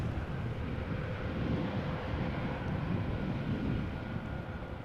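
A heavy jet taxis at Amsterdam Schiphol Airport, its engines a steady, broad low rumble that holds evenly throughout, with some wind noise across the microphone and no voices.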